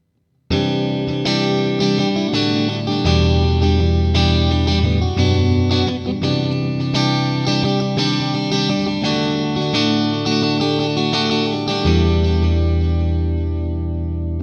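Electric guitar played through a Boss Katana 50 MK2 amp on its second variation setting, driven and effect-laden with chorus and echo, strummed chords ringing continuously after a brief silent start.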